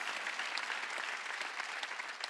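A church congregation at a Wednesday worship service claps together in a fast, even burst of many hands, sounding close and lively at a steady volume throughout, with no talk.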